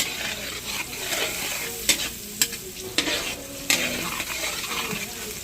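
Onions sautéing in a pan for spaghetti, a dense close sizzle with a spatula scraping and clinking against the metal every second or so, no voices.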